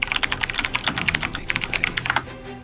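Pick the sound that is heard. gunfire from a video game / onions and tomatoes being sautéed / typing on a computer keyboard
typing on a computer keyboard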